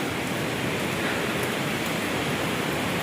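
Floodwater rushes over a road near Wawa Dam, a steady, dense, close roar of churning water that holds evenly from start to finish with no voices.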